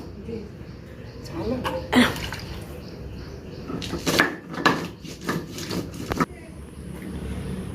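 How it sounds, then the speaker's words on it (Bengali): Green chilies are ground by hand with ghetkochu leaves, giving irregular scraping and rubbing bursts close by, with people talking in the background. "কাঁচা লঙ্কাটা বেটে এর সাথে মেশানো হবে"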